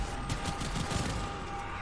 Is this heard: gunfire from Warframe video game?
yes